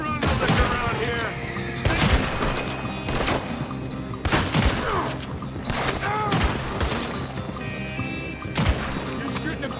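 Gunfire in the Western video game Red Dead Redemption 2: repeated volleys of shots crackle across a shooting range, mixed with horse hooves and whinnies, while voices talk throughout.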